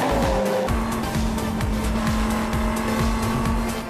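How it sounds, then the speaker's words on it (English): A Dodge Viper GT race car roars down the long straight at Phillip Island during an Australian GT race, its loud engine note steady and close with a sustained high whine and rhythmic gear-change pulses throughout. "look at the Viper coming into its own on this long straight at Phillip Island"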